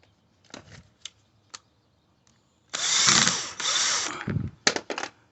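A power tool driving a bolt into the door of a 2003-2010 Porsche Cayenne during a door lock actuator replacement, with short trigger bursts, then a long whirring run and a few final quick pulses, close and loud.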